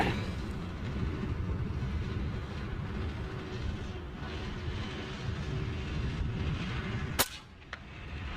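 An air rifle fitted with a fixed-stock CZUB barrel fires a single sharp, close shot late in the clip over steady outdoor wind noise, followed by a faint distant impact.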